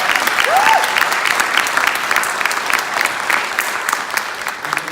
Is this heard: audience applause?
yes